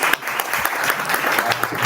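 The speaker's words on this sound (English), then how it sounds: "Let's give him a round of applause." An audience claps at the close of a school training session, a brief burst of steady, moderately loud applause.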